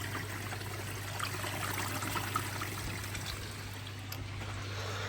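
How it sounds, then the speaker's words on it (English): Water being taken out of a garden pond, a steady close trickling and gurgling flow running throughout without pause, no voices. "I'm just taking some of the water out the pond and changing that"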